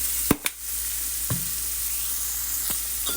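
Walnut taco meat sizzling and frying in a pan, with a couple of sharp spoon scrapes and taps as it gets stirred, over a steady close hiss.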